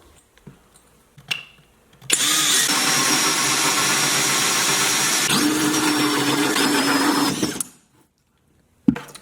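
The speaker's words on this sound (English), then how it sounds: "I need to find the location where I'm going to drill my hole" A power drill fitted with a 3 1/4 inch hole saw bores a hole for an electrical outlet, a steady loud grinding whine lasting about five seconds, framed by faint handling noises before and after.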